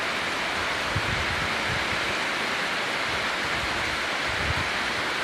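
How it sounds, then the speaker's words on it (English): Heavy rain pours down in a dense, steady roar that fills the whole space, constant and close with no pauses or other sounds. "it's raining."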